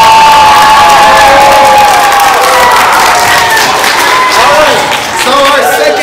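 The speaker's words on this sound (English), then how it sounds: "let's get a little noise from our crowd" A crowd of children cheers, shouts and whoops loudly at a school book event, a sustained dense roar of excited voices with some clapping mixed in.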